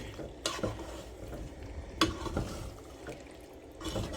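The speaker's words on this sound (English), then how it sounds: "we're gonna mix this all in" Milk and heavy cream being stirred into chicken alfredo in a pan, with wet sloshing stirs and a few sharp spoon knocks against the pan over a soft sizzle.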